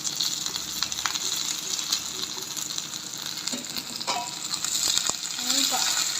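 Garlic, onion and green chili frying in a pan for rajgiri palya, a steady close sizzle with occasional stirring scrapes and clinks, no talking.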